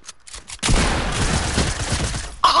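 Video game gunfire: a rapid burst of shots bunched into a dense, loud volley lasting about two seconds, with a sharp sound cutting in at the end.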